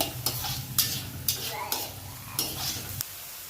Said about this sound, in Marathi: कांदा थोडा परतून झाल्यानंतर लगेच लसूण टाकून दिलेला आहे आपण.